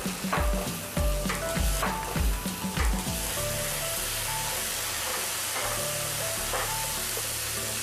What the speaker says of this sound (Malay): Kita tumiskan dia sekejap sampai dia betul-betul naik bau.